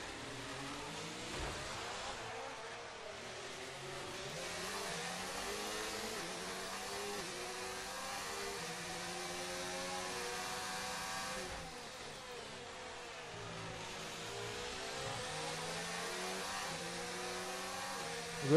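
Formula 1 car engine in F1 2019 at Monaco, a continuous high-revving whine rising and falling through gear changes, steady and loud throughout with brief dips around corners.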